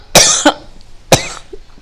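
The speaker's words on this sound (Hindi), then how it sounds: "मेरे को खांसी आ रही, डिस्टर्ब हो रहा है।" Two coughs, the first a harsh double burst and the second a single sharp one about a second later, close and loud, with a faint throat sound after; no talking.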